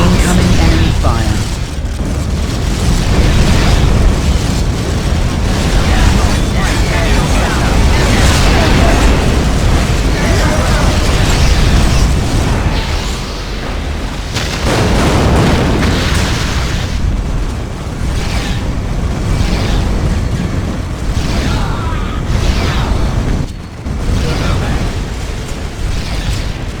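Enemy fire in Warhammer 40,000: Dawn of War – Winter Assault brings a dense, continuous roar of booming explosions. The blasts are loud, close and sustained, with brief dips in between.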